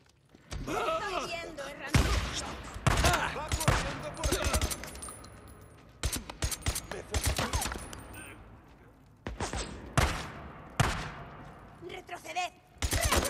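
Gunfire in the video game Days Gone at night: sharp shots fired in bursts and single cracks with quiet gaps between them, loud and close.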